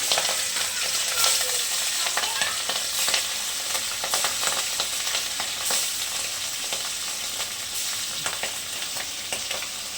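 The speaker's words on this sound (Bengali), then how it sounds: "এবার হলুদ লবণ মাখিয়ে মাছটাকে ভালো করে ভেজে নেব।" Hilsa fish pieces coated in turmeric and salt fry in hot oil, giving a loud, steady, dense sizzle with crackling spatters throughout and no talking.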